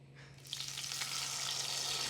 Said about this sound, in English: I'm gonna add a couple tablespoons of vegetable oil